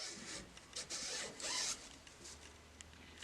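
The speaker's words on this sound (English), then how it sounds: "I'm just going to clean this rotor with a little bit of contact cleaner and just a cloth, and just give it a nice little rub down" Cloth rubbing a HyGain antenna rotor rheostat with contact cleaner, a soft, uneven swishing and scrubbing in irregular strokes, close and fairly quiet, with no voices.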